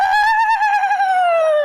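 A stand-up comedian imitates an owl call with his voice, producing one sustained, hooting tone close to the microphone that drifts slightly downward in pitch over under two seconds.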